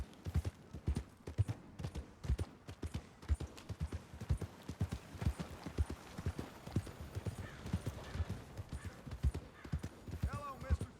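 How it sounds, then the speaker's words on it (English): Rapid rhythmic hoofbeats of a galloping horse in Red Dead Redemption 2, steady and prominent, with a brief whinny and some game sounds near the end. "Galloping causes the horse stamina to drain."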